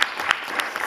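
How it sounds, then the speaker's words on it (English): A few hands clap for a panel at the Nairobi Innovation Tech Week event, several sparse, separated claps in a room, moderately close and brief. "Do they deserve a resounding hand clap?"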